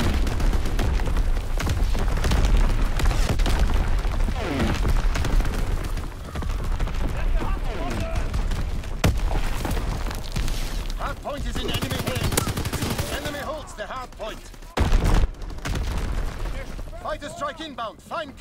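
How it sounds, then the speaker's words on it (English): Call of Duty: WWII multiplayer battle in which artillery booms and dense gunfire fill the whole stretch, loud and continuous, with sharp impacts scattered throughout and game voice callouts heard over the combat. "Incoming enemy artillery."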